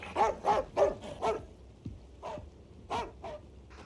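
A dog barks in a series of sharp, moderately loud barks, several in quick succession, then a pause and a few more spaced barks, with no talk over them.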